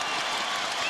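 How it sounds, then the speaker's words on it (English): Basketball arena crowd at an NBA playoff game between the Lakers and Rockets cheering steadily, a dense continuous roar of many voices filling the whole moment at even loudness. "And that gets the crowd even more excited."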